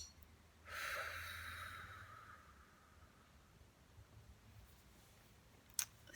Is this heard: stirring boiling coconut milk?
no